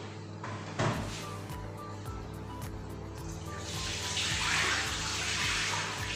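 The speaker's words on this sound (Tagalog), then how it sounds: "Alisin lang natin ang tubig." Water pours and splashes as it is drained off freshly sliced potatoes being prepared for homemade fries in a kitchen, a steady running flow with a few knocks and clatters partway through.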